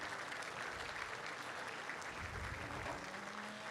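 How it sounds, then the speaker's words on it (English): A crowd at a state fair beef cattle showmanship event claps in continuous, even applause for the senior showmen, heard faintly and from a distance in a large arena. "let's go ahead and give just a big round of applause to all of our senior showmen"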